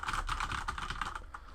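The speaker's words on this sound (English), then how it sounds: "I've got a new keyboard, which is a Corsair K70." Typing on a Corsair K70 mechanical keyboard fitted with O-rings, a steady, close run of quick key clicks that thins out toward the end, with no talking.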